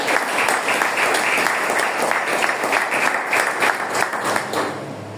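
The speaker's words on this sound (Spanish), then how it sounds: "¿Cuánto dan palmas a Dios?" Church congregation clapping their hands to God during a Spanish-language sermon, with loud, dense, steady applause filling the whole stretch.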